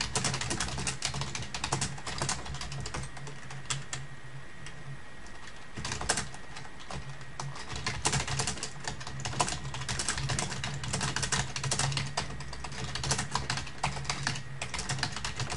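Fast, continuous tapping on a computer keyboard while chatting during a game, close and steady with brief pauses, no voices.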